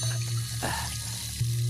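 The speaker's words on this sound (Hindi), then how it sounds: "फिर पानी बह रहा" Water runs steadily from a tap with a soft splashing hiss, close by and continuous, over a low background hum.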